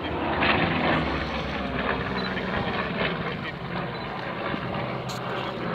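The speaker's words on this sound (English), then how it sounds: "Two 1600 horsepower Allison V1710s." Twin Allison V1710 engines of a Lockheed P-38 Lightning at a Flying Legends airshow, a loud, steady broadband roar that swells slightly early and holds at a fairly even level throughout.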